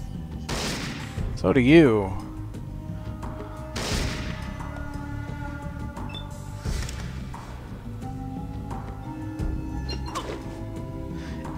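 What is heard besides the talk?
gunshots in Fallout 2 video game combat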